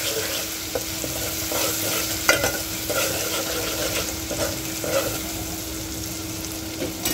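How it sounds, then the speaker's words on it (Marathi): Green masala paste sautés in hot oil for a drumstick curry, giving a steady, loud sizzle with soft stirring scrapes running through it and no speech. "आता यामध्ये हे आपण हिरवं वाटण टाकून द्यायचं आहे. आणि याला छान परतून घ्यायचं आहे."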